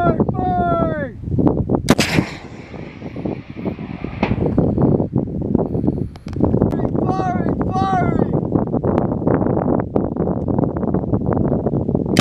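Marine Corps weapons fire on a training range at Pohakuloa, with heavy booming reports repeating through steady wind noise, while voices shout commands over the shots.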